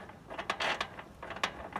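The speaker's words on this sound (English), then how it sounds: "All right, so now you start the bolt." A bolt being turned and tightened on the locking ring of a barrel lid gives off a few short mechanical creaks and ratcheting clicks, close and fairly quiet, with no talking.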